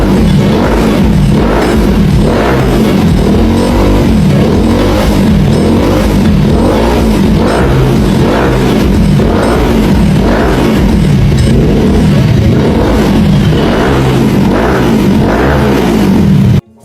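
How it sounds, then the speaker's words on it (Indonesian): Suzuki Inazuma 250 naked touring motorcycle with a 250 cc engine, revving in a steady series of loud, close rises and falls that continue without a break for the whole stretch, with no voices over it. "Ini dia guys, Suzuki Inazuma 250."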